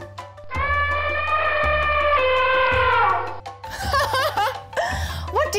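A person imitates an elephant trumpeting through its trunk with a long, loud, wavering tonal blare lasting about three seconds. Shorter warbling vocal bursts follow close up.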